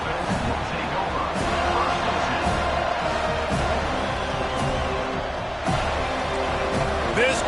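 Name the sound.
stadium crowd cheering at football game kickoff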